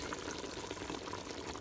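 Bean juice poured from a container onto oxtail for Jamaican brown stew, a steady soft liquid splash close by, filling the short moment on its own with no talk.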